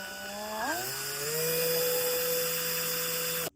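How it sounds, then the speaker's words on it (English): A small rotary drill spins up with a rising whine, then holds a steady high-pitched buzz while boring a socket into the hair piece of a handmade Skyrim Dragonborn figure, stopping abruptly. "Drill time."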